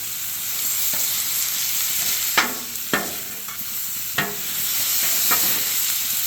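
Ribeye steak bites fry in butter in a pan with a constant close sizzle, punctuated by a few sharp utensil clacks and scrapes.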